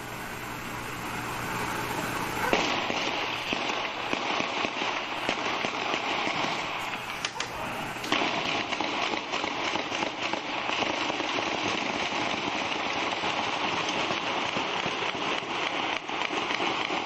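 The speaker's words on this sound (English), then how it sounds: "There's explosions and gunfire going on down the street." Crackling bursts of gunfire and explosions sound down a city street at night, a dense, continuous rattle of rapid pops and bangs heard from a distance.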